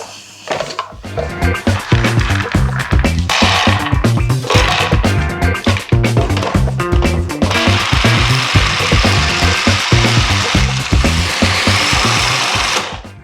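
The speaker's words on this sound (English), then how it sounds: "I'm using beautiful organic raw almonds. So anyway, I'm gonna process them." A food processor chops organic raw almonds, a loud, close, continuous whirring grind with hard rattling of the nuts against the bowl, running for over ten seconds without speech.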